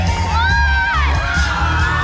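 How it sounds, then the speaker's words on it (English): A crowd at an Oklahoma catfish noodling tournament cheers loudly and continuously, mixing whoops and high shouts into one dense, close wall of sound. "Let's hear it for him. Cheer him on."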